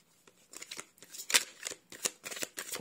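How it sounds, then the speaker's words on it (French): Tarot cards shuffled by hand, a series of crisp riffling bursts and soft slaps in quick uneven rhythm, close and clear with no talking. "alors, on va rajouter des cartes."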